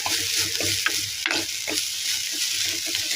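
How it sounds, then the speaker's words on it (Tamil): Vegetables for a veg omelette sauté in a pan, a steady close sizzle with intermittent stirring scrapes and clicks of a utensil throughout. "இது கொஞ்சம் வதங்கட்டும்."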